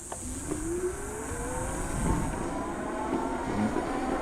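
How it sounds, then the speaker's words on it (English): An iGo Discovery Yorkville LE electric scooter accelerates at full throttle, its motor whine rising steadily in pitch over constant wind and road rumble, with no talk. "we're going to do a throttle acceleration test on the iGo Discovery Yorkville LE"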